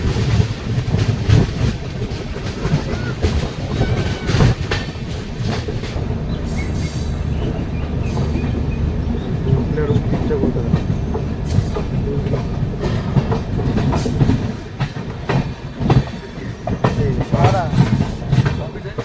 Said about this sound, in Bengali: একটা খুব সুন্দর কার্ভ নিয়ে ট্রেন কামাখ্যা জাংশন এন্টার করছে